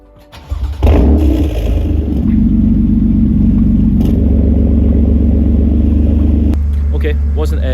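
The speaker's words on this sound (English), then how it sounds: "get a cold start of the car with valves closed and valves open, so we can compare" A BMW M4 fires up on a cold start with exhaust valves: a sharp starter crank and loud flare of revs, then a deep steady idle that changes tone partway through before settling.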